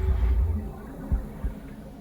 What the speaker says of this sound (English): What's that heartbeat noise?